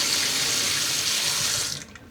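Water runs steadily from a tap, splashing as a blender jar used for dyeing yarn is rinsed beneath it, then cuts off abruptly near the end.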